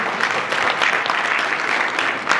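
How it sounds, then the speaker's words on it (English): A room full of people at a World Bank environment event applauds, with dense, even clapping that stays steady throughout and no break. "Please clap for him."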